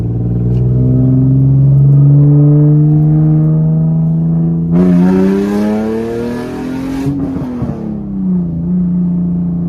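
A Nissan 350Z roadster with a full straight-pipe exhaust idles loudly up close, then revs up with a harsh rising roar and drops back to a deep, rumbling idle, alone without talk.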